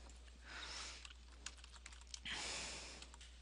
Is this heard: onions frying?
no